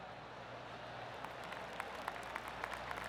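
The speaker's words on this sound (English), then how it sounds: "Oh, golf clap." Polite golf gallery applause at a PGA Tour BMW event, a steady wash of scattered clapping from a distant crowd with a few sharper individual claps standing out, no talking.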